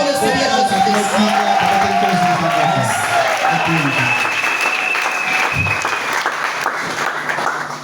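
Church congregation at a Sunday wedding ceremony applauding steadily for several seconds, a dense wash of clapping with some murmured voices mixed in, fading slightly toward the end.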